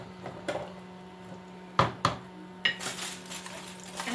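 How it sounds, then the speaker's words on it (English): A utensil stirs Nigerian jollof rice in a pot, giving a few sharp scrapes and clinks against the metal over a quiet background. "You stir it completely."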